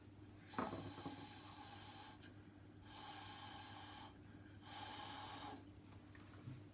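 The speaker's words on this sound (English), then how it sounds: "And blow some black over it." Black acrylic paint is blown across a poured galaxy canvas in three sustained breathy hissing bursts, each lasting about a second, with short pauses between them and a faint steady hum underneath.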